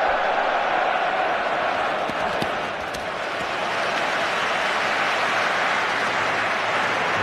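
A large stadium crowd at an England versus Croatia football match at Wembley roars and chants in a dense, sustained wash of noise, with a commentator talking over it.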